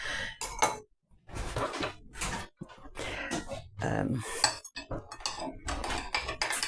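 Cutting and serving a steamed jam sponge pudding from a slow cooker dish, with clinks and scrapes of utensils against the dish in short irregular bursts, mixed with a person talking.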